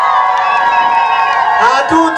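A crowd at a political rally for a ward councillor candidate cheers and shouts over an amplified voice, a loud, dense roar of voices close by, with clapping hard to pick out.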